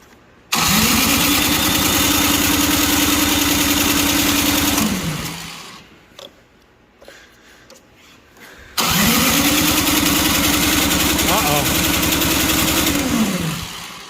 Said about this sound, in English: Might need some ether. Didn't want to go, so we're going to push the easy button.